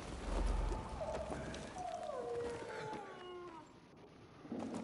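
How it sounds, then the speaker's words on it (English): A dog howls in Dying Light 2, a long wavering cry sliding downward in pitch, fairly distant over a low ambient bed. "Mate, that dog keeps howling."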